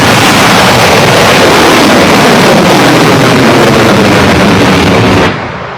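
A model rocket motor ignites and burns at launch: a loud, steady, close roar with no break for about five seconds, then it cuts off abruptly.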